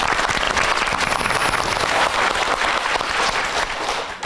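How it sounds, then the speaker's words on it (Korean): A studio audience at a Korean talk show breaks into loud, sustained applause, dense clapping that holds steady before tapering slightly at the end. "마담님의 이야기를 박수로 네. 소개해드리겠습니다."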